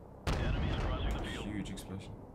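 A huge explosion in an AC-130 gunship mission in the Call of Duty: Modern Warfare Remastered video game: a sudden loud blast, then a heavy rolling rumble that slowly decays.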